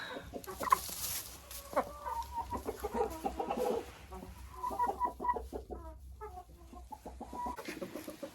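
Hens cluck repeatedly nearby in short, irregular bursts in a henhouse compartment, several birds calling over a low steady background hum.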